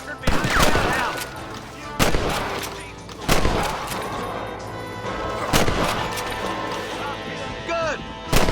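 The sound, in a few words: gunfire in video game Red Dead Redemption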